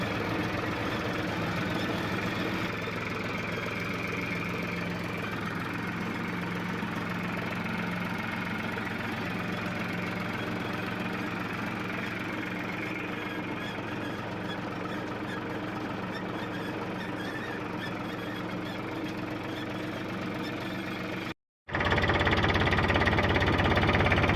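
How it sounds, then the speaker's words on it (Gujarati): A tractor engine on a potato field idles steadily with a low, knocking rumble throughout, briefly cutting out near the end before resuming louder. "એ સાઈડ જુઓ ટ્રેક્ટર આવી રહ્યું છે"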